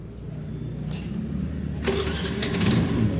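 Scooter electric self-starter cranking with the left brake lever held, the motor catching midway and settling into a steady mid-pitched idle, close-up with no talking.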